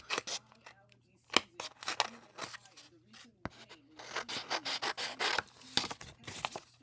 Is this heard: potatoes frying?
no